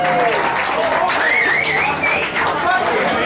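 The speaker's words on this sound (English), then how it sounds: "Round of applause for my grandma." A bar crowd on St. Patrick's Day applauds someone's grandmother, clapping mixed with cheering, whistles and chatter, loud and lively throughout.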